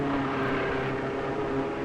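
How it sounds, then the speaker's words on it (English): A steady, loud mechanical drone with low throbbing tones, consistent with racing car engines of 400 to 500 horsepower at the Nürburgring, sustained without a break and with no voices. "their engines have 400 to 500 horsepower with sound effects in proportion"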